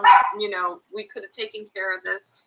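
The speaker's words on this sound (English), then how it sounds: "Oh, that's my dog." A small, scruffy pet dog barks in short yips under a woman's continuous, close talking, the barks blending into her speech.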